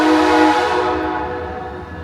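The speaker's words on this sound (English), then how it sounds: "the train that just went through is over" A passing train rumbles close by with a sustained horn-like tone that fades as the sound recedes.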